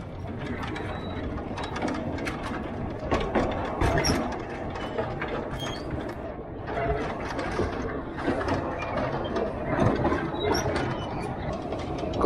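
A narrow-gauge railway train rolls along at a coastal defence museum, a steady rattling, clanking mechanical rhythm of wheels and gears that continues throughout at close range.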